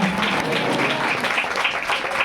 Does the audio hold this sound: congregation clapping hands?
yes